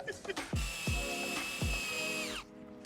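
A cordless power drill driving screws into a cheap aftermarket rear wing on a car, a few short whirring bursts then one sustained high whine that winds down, close and clear.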